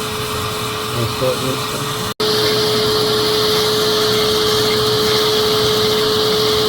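A rotary carving tool grinds fire agate with a steady high whine and gritty hiss, briefly cutting out before resuming continuously; a voice talks over the start.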